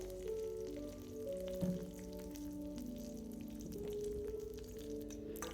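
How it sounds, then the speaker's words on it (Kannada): Curry leaves sizzling in a little hot oil in a pan while okra fry is being made, a faint, steady crackle over a quiet tonal hum. "ಅದೇ ಬಾಣಲಿಗೆ ಒಂದು ಸ್ವಲ್ಪ ಎಣ್ಣೆ ಹಾಕ್ಕೊಂಡು ಜಸ್ಟ್ ಕರಿಬೇವು ಒಂದೇ ಹಾಕೋಬೇಕು"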